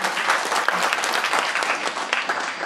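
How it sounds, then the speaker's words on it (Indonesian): An audience claps for the fathers at a Father's Day event, a dense burst of applause close by that carries on without letting up. "Tepuk tangan buat para ayah yang bisa hadir hari ini."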